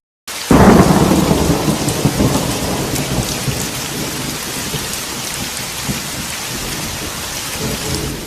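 Heavy rain pours down steadily after a loud rumble of thunder at the start, a dense continuous wash of noise with no voices.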